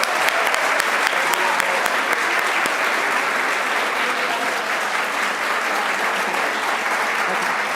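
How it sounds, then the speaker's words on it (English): Audience at a county school board meeting applauding the teachers of the year, a loud, dense, steady round of clapping with some cheering voices mixed in, sustained throughout. "One more round of applause for all our teachers of the year."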